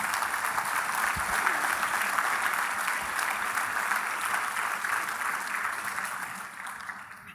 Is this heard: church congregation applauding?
yes